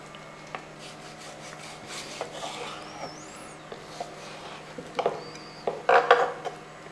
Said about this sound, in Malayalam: ഇതേപോലെ ചെറിയ പീസായിട്ട് അങ്ങോട്ട് അരിഞ്ഞെടുക്കുക.